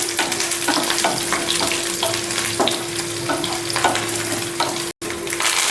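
Green chillies frying in a hot pan with pepper while a tempering for katte pongali is prepared: a steady, close sizzle dotted with sharp crackles and pops, continuing unbroken except for one brief cut near the end.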